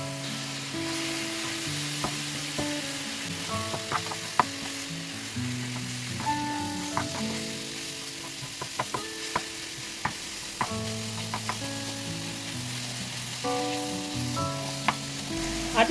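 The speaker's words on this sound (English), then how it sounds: "Now I'm going to add my thyme inside and make sure I stir it together." Thyme being stirred into a sizzling Nigerian meat pie filling in a pan, with a steady close hiss of frying and scattered scraping clicks of the spoon throughout, no talking.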